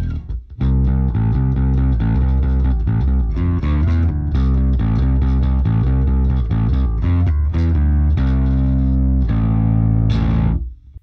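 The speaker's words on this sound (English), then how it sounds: "This is how it sounds with just the low end distortion on." A bass line plays continuously with a gritty, distorted low end, notes moving steadily for several seconds before stopping.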